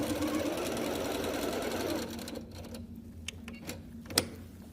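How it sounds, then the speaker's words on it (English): A sewing machine stitches handles onto fabric in a steady, fast mechanical whir lasting about two seconds, followed by quieter clicks and handling taps. "And now we're going to sew them on."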